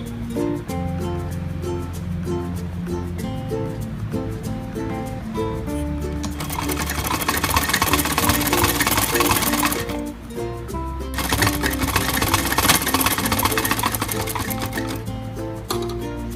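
A sewing machine stitches the sides of a designer kurti, its motor running in long continuous bursts that swell louder and pause briefly, close by, over a steady background of music.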